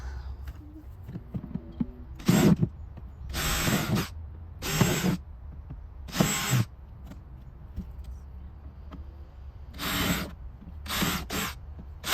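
Drill boring holes into a plastic plant container for a citrus tree, several separate short whirring bursts of one to two seconds each, close and fairly loud against a quiet background.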